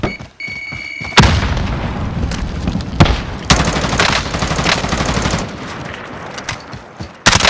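A frag grenade goes off amid Call of Duty: Modern Warfare combat, a heavy boom buried in sustained loud machine-gun bursts and repeated thuds, dense and close.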